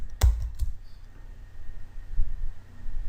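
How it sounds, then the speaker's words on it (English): Typing a spreadsheet formula on a computer keyboard, a few sharp close key clicks early on and a softer tap later over faint hum. "So I will type equals"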